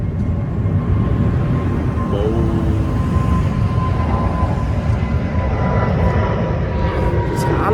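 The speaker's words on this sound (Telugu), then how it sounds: "మళ్ళీ ఇంకో ఫ్లైట్ వెళ్తుంది," Emirates airliner passing overhead near a park, a steady broad engine roar that holds for several seconds over a busy outdoor background, fairly loud and continuous.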